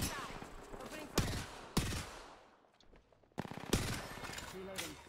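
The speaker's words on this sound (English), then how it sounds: "Opening fire." Automatic weapons fire in bursts in the battle royale shooter Apex Legends, loud rapid rattling volleys broken by short pauses, with a quieter gap in the middle.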